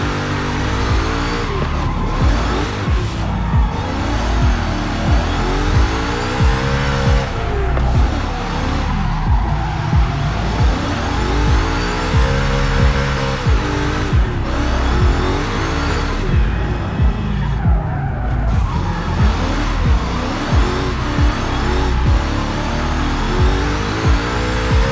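A BMW E30 spins out on a banked corner in Forza Horizon 5, its engine revving loudly throughout with rising and falling pitch sweeps and tire squeal, continuous and close with no speech.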